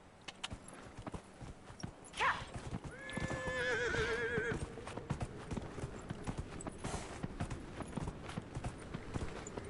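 Horse in the Dragon Age: Inquisition game: a close horse whinnies once, followed by steady clip-clopping hooves at a walking pace, fairly faint and without speech.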